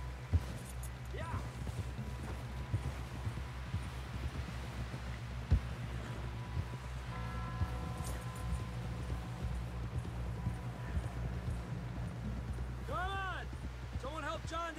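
Horse hooves clip-clop steadily while riding in Red Dead Redemption 2, a soft, continuous rhythm under game music, voices and ambience.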